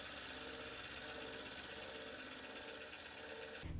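A milling machine takes a light facing cut across the bottom of a small valve casting for a model steam engine, a steady whirring mechanical drone that runs continuously and close, ending abruptly as the cut finishes.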